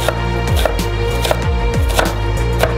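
A knife chops onion on a cutting board in a brisk, steady rhythm of sharp close thuds, about three strikes per second, over a constant low hum with no speech.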